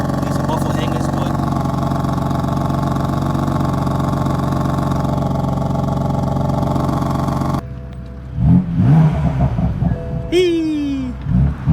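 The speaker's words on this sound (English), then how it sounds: "These cars sound so nice at idle." A BMW F80 M3 idling with a choppy, burbling exhaust, a steady close engine drone that runs for most of the stretch before giving way to someone talking over a quieter, lower engine rumble.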